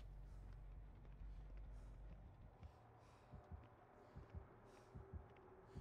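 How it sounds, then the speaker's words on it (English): A Dead by Daylight in-game heartbeat warning thumps in a faint, steady rhythm of soft low beats, rising out of a quiet background after a brief low rumble. "Oh, I hear my heartbeat."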